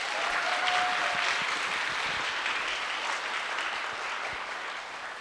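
An audience claps loudly and continuously at a Lunar New Year celebration at a university, a dense wash of applause that slowly fades over a few seconds.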